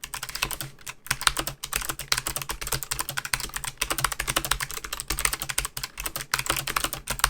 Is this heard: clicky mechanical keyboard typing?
yes